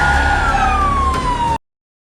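An ambulance siren wails loudly and steadily with a falling pitch sweep, close by, then cuts off abruptly partway through with no voices present.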